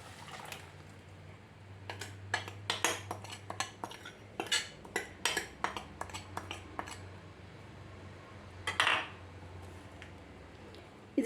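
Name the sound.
mixing ground coconut paste into pineapple pulissery in pot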